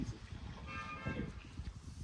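A goat bleats once on a rainy day in rural Jamaica, a short, wavering cry at moderate distance over low background noise and faint voices.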